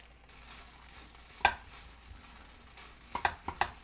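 Spatula stirring and mashing gochujang into fried rice in a pan, soft scraping with a light sizzle underneath and a few sharp clinks of utensil against the pan near the start and end.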